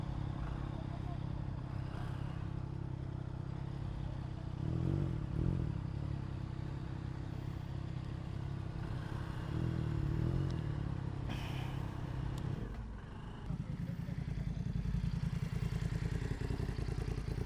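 Many motorcycles, including Triumph Tridents, idle and rumble at a moto heritage weekend gathering, a steady low engine drone with brief revs and clatter, mid-distance and continuous.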